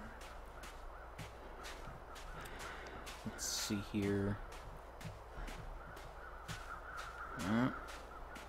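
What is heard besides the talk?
crows cawing overhead in The Long Dark video game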